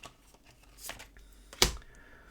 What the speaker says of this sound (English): I'm going to shuffle these under the table so I don't see which one I'm drawing